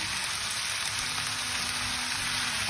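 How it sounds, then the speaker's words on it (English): Onions and potatoes for vegetable samosa filling sizzle in a pan, a dense, even frying hiss held close and constant throughout, with no voices. "After a couple of minutes sauteing the onions, I'm gonna add the potatoes in now."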